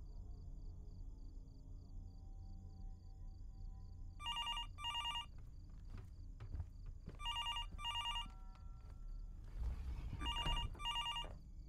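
Old-style telephone rings in the Fears to Fathom: Norwood Hitchhike horror game, three separate double-burst rings spaced a couple of seconds apart over quiet room tone, with faint footsteps and shuffling between them.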